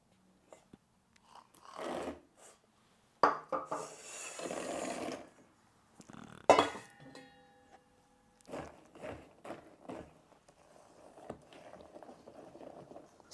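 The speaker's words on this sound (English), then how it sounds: "Scraping the bowl a little bit." A spatula scrapes a mixing bowl of pecan pie filling with pecans, several separate near scraping strokes between quiet pauses.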